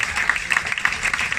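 Wedding guests applauding the best man during the groom's speech, a steady patter of many clapping hands in a room that stays even and moderately loud throughout.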